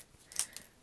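Scissors trimming a crumb cake paper tag along its stitching, a single quiet snip or two in a brief, faint burst.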